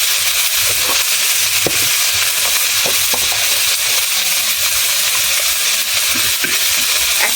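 Chopped ash gourd with salt and turmeric fries loudly in a pan, a dense, unbroken sizzle with scattered scrapes and clicks as it is stirred and turned.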